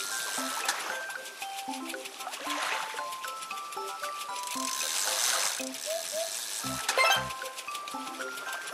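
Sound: water splashing in a kids' number game

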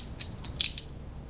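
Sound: multi-tool butterfly knife blade being pulled open

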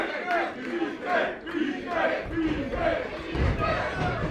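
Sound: wrestling crowd cheering in a video game

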